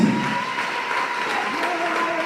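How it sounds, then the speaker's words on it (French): Congregation in a church applauding in steady, dense clapping that fills the space throughout, acclaiming Jesus Christ during a Sunday service, with a faint voice carrying under the applause. "Il va acclamer le Seigneur Jésus-Christ."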